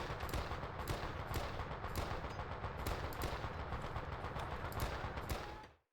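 An M60 machine gun fires in the Vietnam War video game Men of Valor, loud rapid bursts chattering almost without pause for several seconds before cutting off abruptly.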